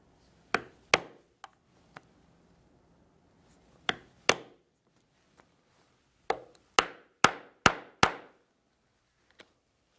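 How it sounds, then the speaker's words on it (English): A hole punch is struck with a mallet to punch adjustment holes in a leather guitar strap, giving sharp, close knocks that come singly and in quick pairs with quiet gaps between them. "we will punch holes for adjustment."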